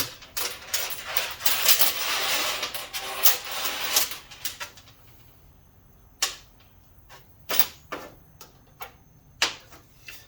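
Solenoids being pulled from a Toyota Corolla automatic transmission valve body, with a burst of rustling metallic handling early on, then a run of sharp, separate clicks and taps at close range in a quiet room.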